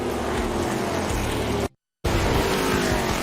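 ARCA race cars roaring around Fairgrounds Speedway Nashville, a loud dense engine blare with a brief dropout to silence partway before the roar resumes just as strongly.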